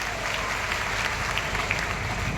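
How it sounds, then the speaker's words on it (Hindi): Loud, steady applause from a large crowd at a public address by Chief Minister Mohan Yadav, filling the whole short stretch with dense, even clapping. "लेकिन 112 करोड़ के लिए भी जोरदार ताली बजा दो जो ऑलरेडी मिल गया।"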